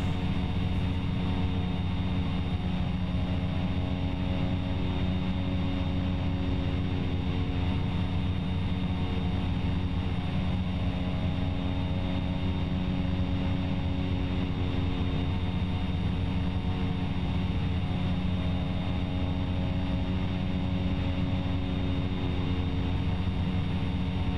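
Cessna 208B Caravan turboprop engine running steadily after the throttle is revved up, a loud continuous droning roar with a constant tonal hum and no change for the whole stretch.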